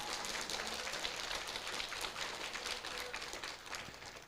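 Audience applause in a Korean lecture hall during a talk on religious doctrine, a steady, dense wash of clapping that holds evenly throughout without any voices on top.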